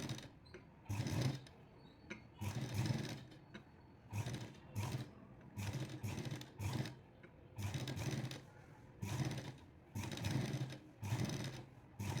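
A sewing machine stitches rolled piping on a blouse without thread, running in short rhythmic bursts separated by brief pauses, faint and close, with no voices.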